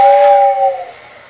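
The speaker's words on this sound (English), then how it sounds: "your air whistle is actually inside your tender" Lionel ready-to-run toy train air whistle housed in the tender gives a short, loud, breathy two-tone hoot lasting about a second, fading out quickly, alone and close by.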